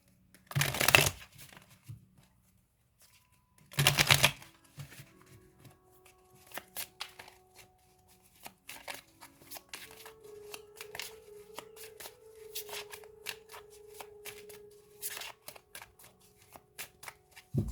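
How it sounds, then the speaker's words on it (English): Tarot cards shuffled in several quick riffling bursts, separated by quieter pauses and light tapping of cards, close and fairly crisp. "give me 3 more shuffles"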